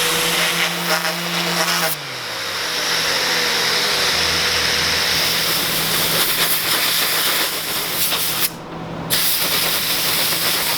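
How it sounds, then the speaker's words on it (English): A steady, loud hiss of compressed air from an air nozzle blowing sanding residue off a sanded wooden surface, continuous for most of the stretch with one brief pause near the end. "we just get a air nozzle and we'll blow those off"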